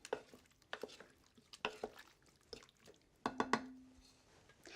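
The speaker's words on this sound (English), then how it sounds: "So add that right in and just give it a stir to combine it." Green pepper stirred into Hawaiian turkey stew in a slow cooker, soft wet squelches and spoon knocks against the pot at an irregular pace, quiet and close, no voices.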